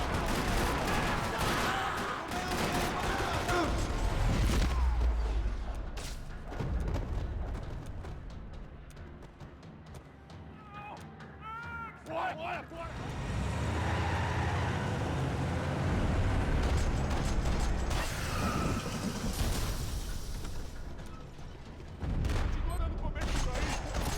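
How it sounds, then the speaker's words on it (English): Gunfire rattles across a parking lot in the video game Max Payne 3, with dense bursts and volleys over loud game noise that dip briefly midway and then return at full strength. Speech is heard now and then. "parking lot rattling with gunfire."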